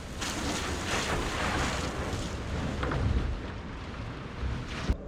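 Water runs steadily on an off-grid homestead, filling a container with a continuous broad rushing hiss that stays level for several seconds and ends in a couple of soft knocks.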